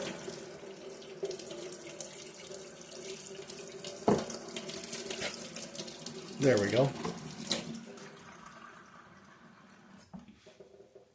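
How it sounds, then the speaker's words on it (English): Hot water running from a kitchen tap into a sink, a steady close stream that shifts in tone as it fills something, with a brief spoken remark near the end. "I'm just letting it run for a minute so I can get the nice hot water."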